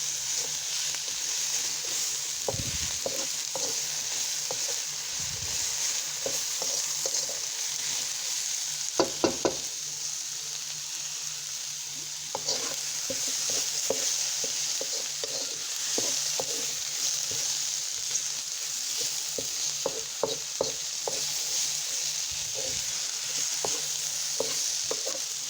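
Carrots and cabbage frying in a pan, a steady bright sizzle running throughout with occasional scraping and stirring knocks, fairly quiet and with no talking.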